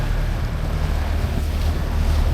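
A police boat motors along the water in Venice, a constant low engine rumble mixed with heavy wind buffeting and water wash, close and loud throughout.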